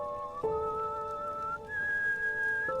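Someone whistles a meandering tune at night in the video game Enderal: Forgotten Stories, a clear, moderately faint melody of held notes with pitch shifts, alone without talk.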